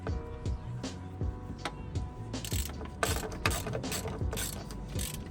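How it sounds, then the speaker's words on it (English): A ratchet clicks rapidly in bursts while loosening the bottom starter motor bolt on a Toyota Hilux LN106 engine, close and crisp with brief pauses between strokes. "So now I'm just going to remove the bottom starter motor bolt."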